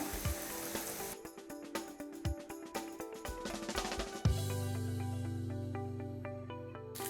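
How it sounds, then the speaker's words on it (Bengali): Ginger and garlic paste frying in a pan over medium heat crackle and sizzle steadily, with a few sharp clinks of a utensil, then settle into a denser, continuous sizzle. "মশলাটা আমি চুলার আগুন মিডিয়ামে রেখে ভাজছি"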